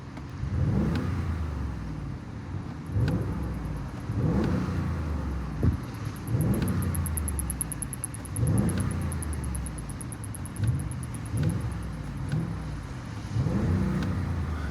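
An Audi SQ8 facelift V8 luxury SUV in dynamic mode is revved repeatedly while stationary, about eight loud rising roars each hitting a rev limiter near 3,800 RPM before dropping back, heard up close from the open window with no talking.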